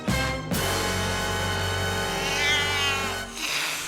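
A cat lets out one long, loud, tonal meow close by, held for several seconds and wavering in pitch, with no talk over it.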